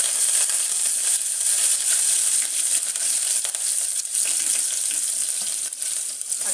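Dried chillies sizzle in hot oil with asafoetida and curry leaves, a steady bright crackling fry that stays loud and close for the whole stretch, with no talking over it.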